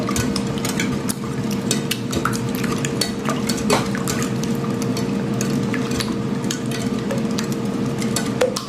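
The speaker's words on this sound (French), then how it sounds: "Là, je vais fouetter le tout." Eggs whisked with chili pepper in a bowl, a steady stream of quick scraping, clinking strokes continuing throughout at close range over a low background hum, with no talking.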